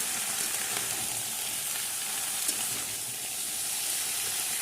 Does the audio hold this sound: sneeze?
no